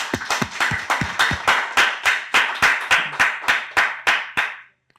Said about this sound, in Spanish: un aplauso para agradecerle su presencia